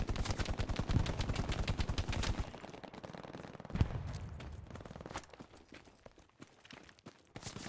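Machine gun firing in the video game Hell Let Loose, a dense rapid burst of shots for the first few seconds, then scattered distant gunfire and battle noise.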